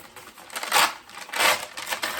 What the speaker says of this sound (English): This packing paper is perforated, so it's pretty easy to tear on those perforations.